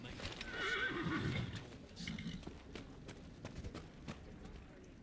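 A horse whinnies in the video game Dragon Age: Inquisition, a long faint neigh near the start followed by softer snorts and hoof movement, quiet and somewhat distant with no talk over it.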